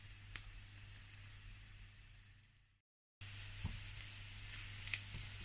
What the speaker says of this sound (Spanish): Sartén al fuego, con un hilo de aceite. Para comenzar, a sofreír